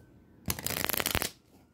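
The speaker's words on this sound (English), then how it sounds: "So we're just going to get a couple shuffles" A deck of tarot cards shuffled in a single quick riffle, a dense burst of crisp flapping clicks lasting under a second against a quiet room, close and fairly loud.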